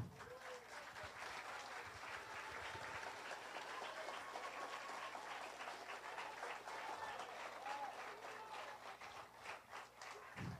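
A political audience applauds at a rally, a continuous, even roar of many hands clapping at moderate distance, filling the whole stretch with faint murmuring underneath.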